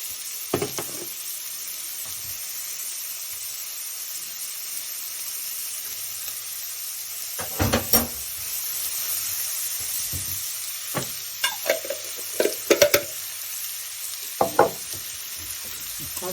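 Onions fry in coconut oil with a steady close sizzle and hiss, broken by several sharp scrapes and clinks of a spoon stirring the pan, with no talking.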